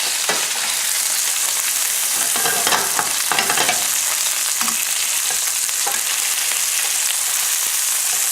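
Homemade Italian sausage patties searing in a hot pan, a loud continuous sizzle and spitting crackle with a few scraping stirs or flips, close and unbroken.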